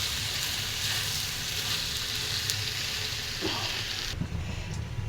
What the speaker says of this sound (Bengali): এখন একটু মানে ভাজা ভাজা করব পানি দেওয়া পর্যন্ত